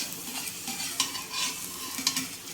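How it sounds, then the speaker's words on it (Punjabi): Pani puri made from flour and semolina fry in hot oil while being stirred, giving a soft continuous sizzle with light scraping and bubbling, close and fairly quiet. "ਇੱਕ ਹੱਥ ਨਾਲ ਆਪਾਂ ਜਿਹੜਾ ਆ ਫਰਾਈ ਕਰੀ ਜਾਵਾਂਗੇ ਤੇ ਇੱਕ ਹੱਥ ਨਾਲ ਇਹਨਾਂ ਨੂੰ ਹਿਲਾਈ ਜਾਵਾਂਗੇ"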